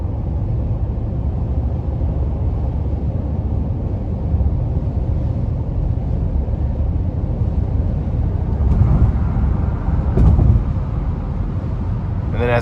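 A 2022 Honda Pilot EX-L AWD with its V6 accelerating under throttle, a steady low engine drone heard from inside the cabin, rising slightly with a couple of brief clicks near the end.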